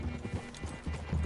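Horse hooves clop on the ground in Red Dead Redemption 2, giving a quick, uneven run of soft thuds at close range over faint background noise.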